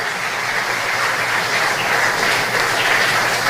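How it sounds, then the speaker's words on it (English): A steady round of applause fills a tribute ceremony honoring Belizean patriots, dense even clapping from a crowd sustained throughout without a break. "Another round of applause for Ms."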